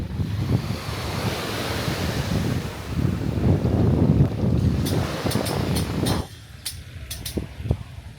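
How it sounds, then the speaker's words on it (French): Waves wash onto a small fishermen's beach on Phu Quoc island in a steady close rush, with heavy wind buffeting the microphone, easing after about six seconds into a few sharp clicks. "Petit arrêt sur une petite plage de pêcheurs."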